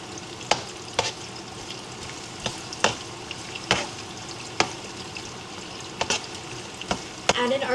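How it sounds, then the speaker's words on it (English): Onions sauté in a pan with a soft, continuous sizzle, broken by about ten sharp clicks of a utensil stirring against the pan. The sizzle grows rougher and louder at the very end. "Now we're gonna saute our veggies. We're gonna start with our onions."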